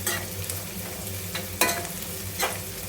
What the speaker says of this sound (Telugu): ఆనియన్ ఎంత మంచిగా ఫ్రై చేసుకుంటే అంత బాగుంటుంది అన్నమాట